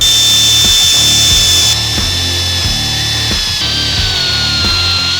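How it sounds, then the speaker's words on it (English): A die grinder whines steadily against an engine block, clearing space for the conrods, its high-pitched tone loud and continuous with rhythmic dips as the tool is worked back and forth. "while we're making a mess with the die grinder is we'll grind them up"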